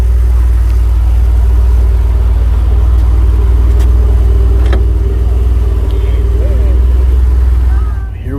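A DeLorean rolls off with a deep, steady engine rumble heard from inside the car, continuous and loud before easing at the end.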